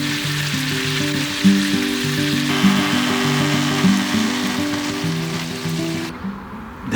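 Bacon sizzles steadily in a frying pan inside an Elddis motorhome, a constant close crackling hiss over a low droning hum that fades out near the end.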